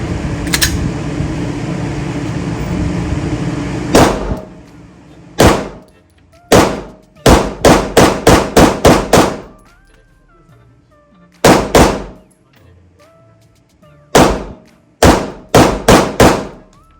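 Glock pistol gunshots at an indoor shooting range: a dozen or more sharp, loud reports with echoing decay, some single and some in rapid strings of four or five, with a steady fan-like hum under the opening seconds.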